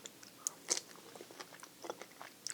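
Someone bites into a Gegantina fig with thick skin, then chews: a few sharp, close crunches followed by softer, moist chewing and smacking, quiet and intimate with no talking.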